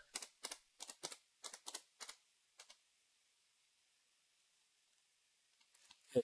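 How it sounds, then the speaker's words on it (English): A password is tapped out on a computer keyboard in a quick run of about a dozen close, crisp key clicks, followed by near silence and a final louder click. "Then you type in your password."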